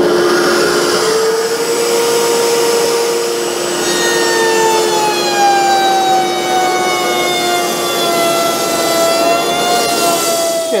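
Router on a large router table cuts a slot in wood, a loud sustained whine with shifting tones and a steady rushing grind, running close and unbroken for the whole stretch.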